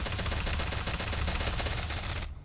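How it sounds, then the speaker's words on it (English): Rapid gunfire from Borderlands 3 on PC, a dense, continuous burst of loud shots stacking together for about two seconds before cutting off abruptly. "And then fire a couple shots."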